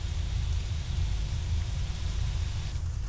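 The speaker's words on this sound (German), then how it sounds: "Ich habe nämlich gerade den Regen auf extrem gestellt." Extreme heavy rain in the OMSI 2 bus simulator, a dense continuous hiss of downpour with a low rumble beneath, steady and unbroken.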